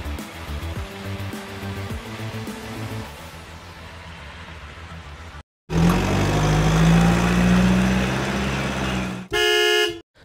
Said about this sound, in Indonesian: Truk tanker. digunakan untuk pengangkutan material cair atau gas.